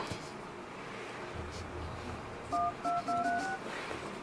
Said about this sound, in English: dialing a number.